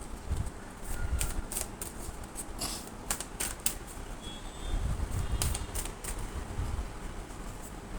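Tarot cards are drawn and shuffled by hand, giving a run of soft papery riffles and slaps that come in bursts over a low background rumble, with no voices.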